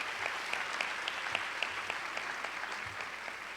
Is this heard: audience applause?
yes